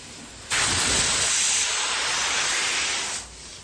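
A spray gun sprays a metallic yacht coating onto a boat, a loud steady hiss that starts abruptly, runs about three seconds and then cuts off, with no one talking.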